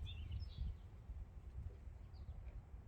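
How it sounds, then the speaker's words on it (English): Birds sing outdoors in quiet countryside, with a few faint, brief chirps early and again midway over a low, steady outdoor rumble. "I don't know if you guys can hear the sounds of the birds right now"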